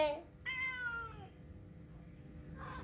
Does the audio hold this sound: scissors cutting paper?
no